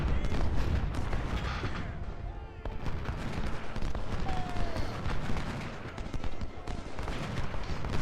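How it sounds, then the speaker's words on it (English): Guns of ironclad warships firing during a Civil War battle in Ultimate General: Civil War, a continuous rumbling barrage of heavy booms and crackling shots, fairly distant and rolling without a break. "2 ironclads took position to support us with their guns."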